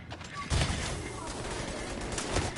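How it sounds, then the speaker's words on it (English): Bursts of gunfire strike a player in the shooter game Tom Clancy's The Division 2, rapid cracking shots under a voice talking over the action. "Yo, I'm getting shot in the back."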